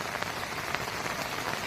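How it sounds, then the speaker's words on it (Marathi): Steady heavy rain falling on a mango orchard, a dense continuous hiss with faint scattered drop patter, close and with no talk. "पाऊस थांबायला मार्गच नाही आहे."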